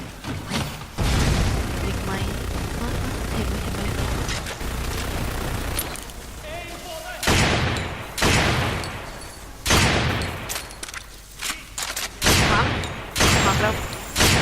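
Rapid bursts of gunfire and sharp explosions from the video game Lost Planet 2, loud and repeated, with pauses between volleys.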